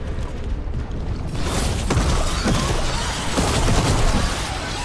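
A ball of corruption is shot in Dragon Age: The Veilguard, bursting in after a quiet second into a dense, loud stretch of crackling, rattling mechanical bursts that continue steadily to the end.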